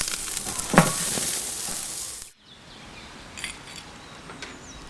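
A steak sizzles loudly on a hot grill as it is turned, with a brief scrape and clack mid-way, then a sudden drop to a quieter, steady frying hiss.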